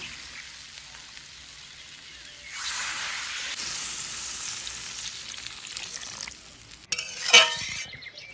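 Water poured into a sizzling egg curry sets off a louder surge of hissing and frying that holds steady, with a sharp clink of utensils near the end.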